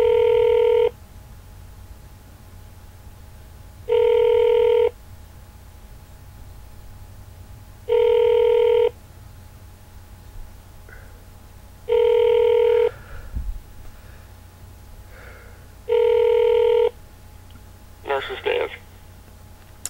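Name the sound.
telephone ringing during call transfer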